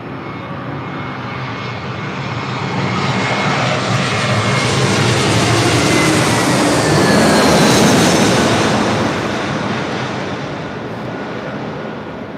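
A jet airliner taking off from the north side at LAX makes a broad, loud roar that swells for several seconds, peaks, then slowly fades as it climbs away.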